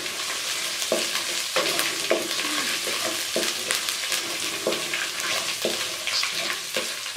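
Chicken malai boti frying over low heat in a pan, a dense continuous sizzle with regular stirring scrapes and clacks about once a second, close and loud.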